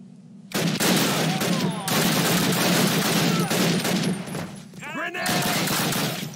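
A grenade blast in Call of Duty bursts in loud and broadband, then sits within sustained, dense gunfire and battle noise through the Captain Price rescue mission, with further sharp crackling hits near the end.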